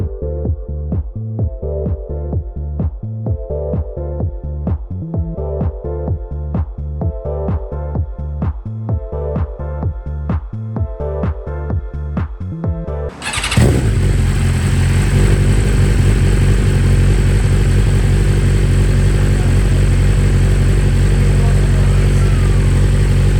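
A 2025 BMW S1000RR engine idles with a rhythmic, lumpy putter, then revs sharply into a loud sustained roar through a swapped aftermarket muffler, very close with no talk.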